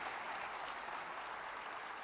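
An audience applauds at a centenary celebration, with steady, soft clapping that carries on evenly throughout at a distance, with no voices standing out.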